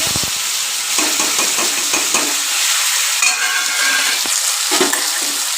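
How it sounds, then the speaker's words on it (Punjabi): Onions and garlic sizzle loudly in a hot pan while being stirred, with a constant frying hiss and a few scraping knocks of a spoon against the pan. "ਬਸ ਇਹਨਾਂ ਨੂੰ ਚੰਗੀ ਤਰ੍ਹਾਂ ਫਰਾਈ ਕਰ ਲੂੰਗੀ ਮੈਂ ਪਿਆਜ਼"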